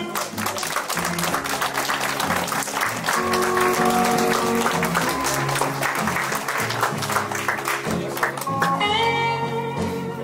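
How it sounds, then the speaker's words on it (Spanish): Applause at a quinceañera party for the last doll presentation, steady clapping from the guests heard under loud party music with a strong bass line and sustained tones. "Aplausos, por favor,"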